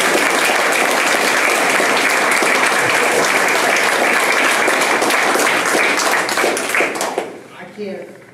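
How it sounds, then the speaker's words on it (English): Loud, sustained applause from a crowd at a wrestling winter banquet, steady clapping filling the room for several seconds before tapering off as a voice begins to speak. "we should give Coach Wright a big hand of applause for this"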